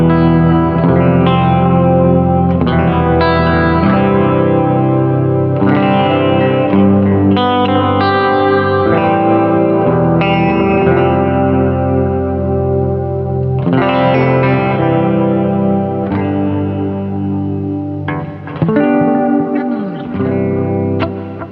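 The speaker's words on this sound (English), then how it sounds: "I thought you might like to hear the Plexi." An electric guitar played through a Welsh Marshall Plexi amp rings out loud and alone in bright, jangly strummed chords with sustained, effect-laden tones, changing every few seconds.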